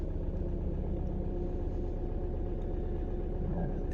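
An Audi A1 engine runs at steady idle during DPF regeneration, a constant low rumble with a faint mid-range hum, close and unbroken throughout.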